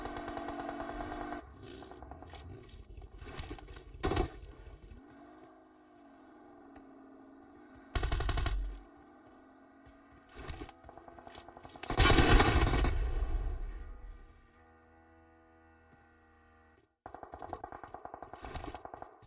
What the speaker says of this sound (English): Steezy getting some excellent shots in.